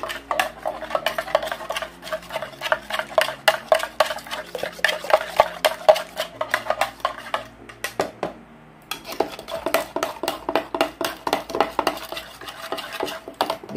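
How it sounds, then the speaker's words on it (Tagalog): A long spoon stirring matcha milk tea, rapid rhythmic clinking and scraping against the cup, close and fairly loud, with a brief pause midway before stirring resumes. "And mix well."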